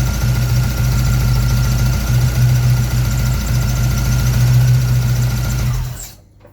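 A 1965 Pontiac engine idles steadily and loudly up close, its low rumble carrying a light mechanical chatter and a mild surging rhythm, then cuts off abruptly near the end.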